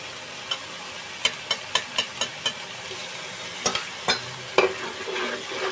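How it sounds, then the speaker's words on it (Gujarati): A spoon scrapes and taps through yogurt-laced gravy in a pan over low flame, a series of sharp close knocks in bursts over a soft sizzle. "લો ફ્લેમ રાખી અને આપણે એને ઘડીક હલાવીશું"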